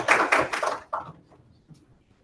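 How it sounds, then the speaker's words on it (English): Audience applause at a workshop, a dense burst of clapping for under a second that breaks off, then a brief second flurry trailing away into scattered claps and room quiet. "let's give another round of applause"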